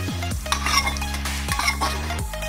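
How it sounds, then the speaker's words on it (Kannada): Fried okra (bhindi) being scraped and tipped from a pan into a bowl, with close metallic clinks and utensil scrapes against the pan over a steady low hum, no talking. "ಒಂದು ಬಟ್ಲಲ್ಲಿ ಇದನ್ನು ಟ್ರಾನ್ಸ್ಫರ್ ಮಾಡ್ಕೊಳ್ಳಿ."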